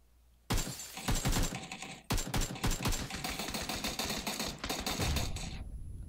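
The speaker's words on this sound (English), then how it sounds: "I was just shooting for the fun of it." Automatic gunfire in the PUBG video game, rapid bursts of loud close shots in long rattling strings with a brief pause between volleys.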